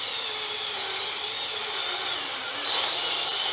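A power drill bores slowly into a heavy-duty wood plank, giving a steady, moderately loud whir with a faint rising edge as the bit bites deeper.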